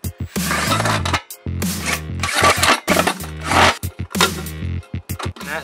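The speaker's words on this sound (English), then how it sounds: "the first thing we need to do is drill some holes." A power drill whirs loudly in several short bursts with brief pauses between, its motor pitch rising and falling as it bites into thin metal.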